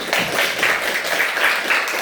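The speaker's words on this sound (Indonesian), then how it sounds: "Tepuk tangan untuk dia." Classroom applause for a student after answering a question: a brief, even patter of many hands clapping at moderate loudness, with no talk over it.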